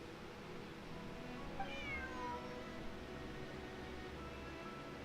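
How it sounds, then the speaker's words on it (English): A cat in a story-driven video game gives a single clear meow, moderately faint, over a low steady background ambience. "Bonnie is Pierre's cat."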